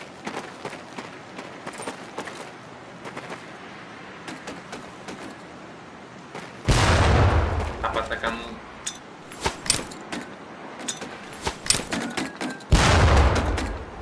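Training grenades bursting near barrels in Medal of Honor Pacific Assault: two loud, booming blasts with rumbling tails break through a busy background of game ambience, clicks and a voice.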